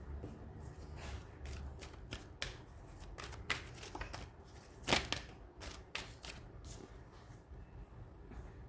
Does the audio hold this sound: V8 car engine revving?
no